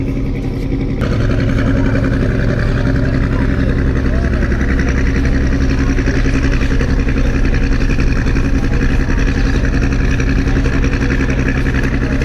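Passenger river launch arriving at a ghat on the Dhaka route, its engine throbbing in a loud, steady low drone with constant rumbling texture, close by and unbroken throughout.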